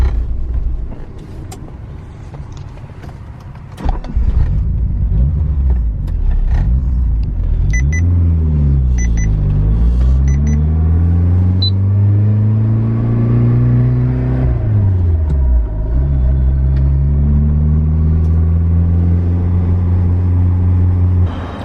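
Turbocharged DSM car engine rumbling on the road, loud and steady throughout, with rising and falling harmonic sweeps as it accelerates through gears and eases off, no talking.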